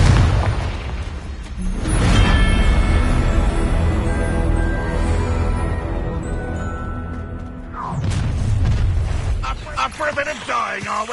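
Confringo blasting spell from a Harry Potter video game, erupting in loud booming bursts, one early and a second near the end, over a dense rumbling game soundtrack.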